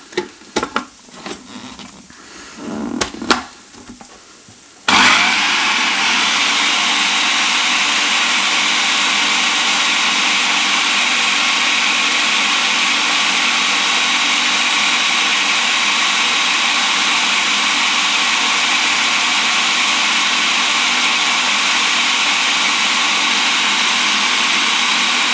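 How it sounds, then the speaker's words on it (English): A kitchen blender loudly whirs through a vegan breakfast batter of soy milk and added ingredients, running steadily and continuously after a few seconds of quieter handling and clinks. "And I'm going to blend it up again."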